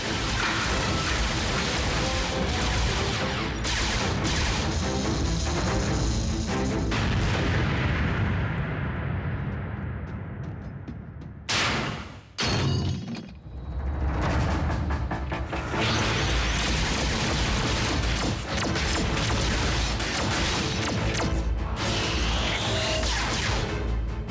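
A barrage of loud, rumbling cartoon explosions and blasts from a Transformers Prime episode in Hindi, one after another, with a brief sudden drop in the noise partway through.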